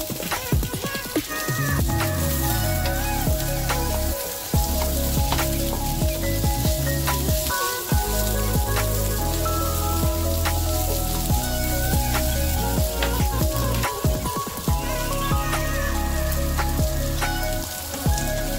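Hard lotus root pieces sizzle and fry steadily in a hot pan with beef, a dense, continuous crackling hiss with occasional stirring clatter, close and fairly loud, with no talking.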